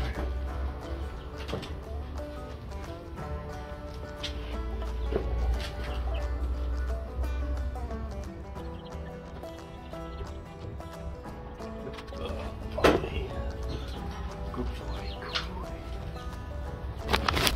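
Young egg-laying chicks in a brooder chirp continuously in a dense, overlapping chorus close by, with occasional wing flutters and soft clucks over a steady background hum.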